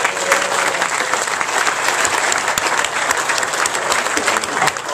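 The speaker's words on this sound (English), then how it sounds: "give everybody a round of applause" A golf tournament fundraiser audience breaks into steady, full applause, dense clapping holding at an even level throughout with a few voices mixed in.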